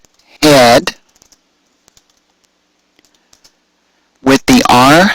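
Typing on a computer keyboard in Word: faint, sparse key taps fill a quiet gap between two loud stretches of talking.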